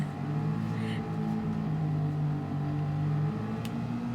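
A Formula 1 race car engine in a video game holds a steady high whine at full throttle, droning continuously at moderate loudness and faintly shifting pitch.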